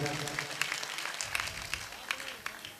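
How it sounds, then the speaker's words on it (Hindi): Audience at a Hindi comedy poetry gathering claps in a loose, uneven round, with scattered sharp claps over a murmuring crowd and a low hum in the background. "ताली बजाएं।"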